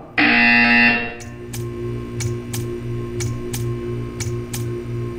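A loud electronic buzzer in Portal 2 blares for about a second, then stops, followed by a steady series of sharp ticking clicks over a low hum.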